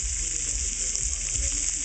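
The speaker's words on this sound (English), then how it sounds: "I can hear my steak needs to be flipped" A ribeye steak sizzling in a hot pan, a dense continuous hiss of frying fat, close and fairly loud, with no talk.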